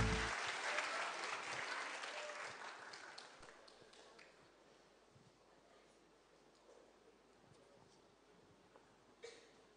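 Worshippers at a church cover-song service applaud the singer; the clapping starts full and fairly close, then fades away to sparse, scattered claps and quiet.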